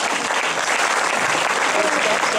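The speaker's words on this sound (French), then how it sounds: "Oui, on peut l'applaudir encore" A studio audience claps steadily for a 12-year-old singer at the final of a regional talent contest; a dense, even wash of applause fills the short stretch with no voices on top.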